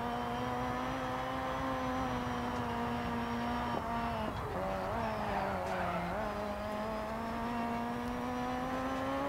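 A race car in the DiRT 4 rallycross RX2 class holds a steady, loud, high engine drone throughout, with brief dips and pitch shifts around gear changes and a slight surge toward the end.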